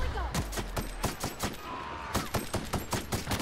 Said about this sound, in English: Yes, you guys, I have an assault rifle now.